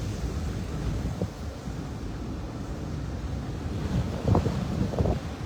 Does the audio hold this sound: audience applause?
no